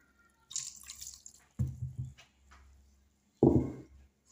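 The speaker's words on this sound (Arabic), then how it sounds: "نخليه يقطر شويه، نحي هذاك الماء زياده" Water trickles and drips from soaked couscous being drained in a kitchen, several short splashy bursts separated by quiet gaps, close and fairly loud.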